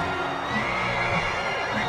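Horse in Mount and Blade: Warband whinnying amid steady game background noise, one fairly close neigh spread over the short stretch with no talk.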